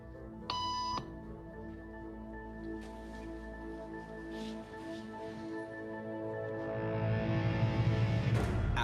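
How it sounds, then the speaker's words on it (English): A short electronic beep tone sounds once, sharp and pure, followed by a quiet room with a rising rush of noise toward the end. "After just 3 beeps"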